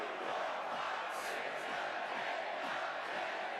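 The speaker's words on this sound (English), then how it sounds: "Crowd likes that." A live wrestling arena crowd in Montreal roars for a hometown wrestler, a dense, sustained wash of cheering and shouting from a large audience with a few whoops rising above the noise.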